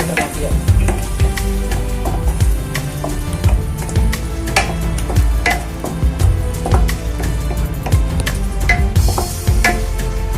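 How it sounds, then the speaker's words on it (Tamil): A spoon scrapes and stirs curry paste through a sizzling pan for egg curry, with steady frying crackle and clinks against the metal. "கொஞ்சம் கிளறி விட்டுறோம் அப்படியே"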